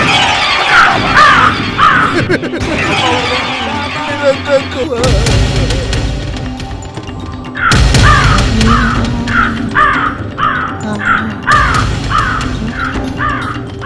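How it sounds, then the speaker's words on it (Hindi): A crow kept in a cage caws loudly and repeatedly in harsh bursts, close by, alongside talking voices and some heavy thumps and clatter. "कौवे शाह बाबा, बता मैडम की तकदीर का हाल"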